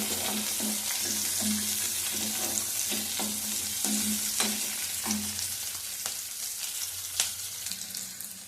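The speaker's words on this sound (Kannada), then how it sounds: "ಈರುಳ್ಳಿ, ಇವೆಲ್ಲ ಸ್ವಲ್ಪ ಫ್ರೈ ಆಗೋವರೆಗೂ ಹುರ್ಕೋಬೇಕು." Onions for green chicken biryani frying in a pan and stirred with regular scraping strokes, loud close sizzle with a rhythmic series of spoon scrapes, no talking.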